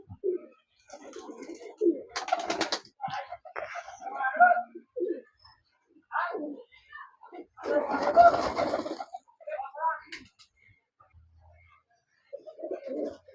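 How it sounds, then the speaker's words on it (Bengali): Giribaz pigeons cooing close by, several soft throaty coos and calls in irregular bursts with quiet gaps between, heard alone without talk. "দর্শক বন্ধুরা দেখলেন পায়রা"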